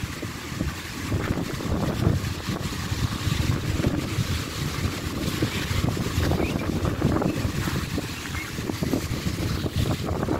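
Strong wind roars across the shore on a rough, windy day in Puerto Rico with big waves, a loud continuous gusty rush buffeting the microphone for the whole stretch.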